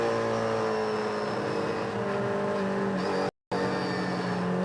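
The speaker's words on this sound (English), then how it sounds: "the quiet Chris Dyson, but you get the sound of his car" A race car runs under caution, its engine humming at a steady, moderate pitch with a constant close drone, broken by one brief cut to silence.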